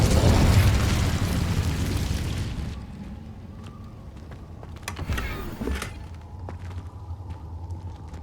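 An Incendio fire spell is cast in Hogwarts Legacy. A loud whooshing burst of flame roars for a couple of seconds and fades into a low crackling rumble, with a smaller flare near the middle.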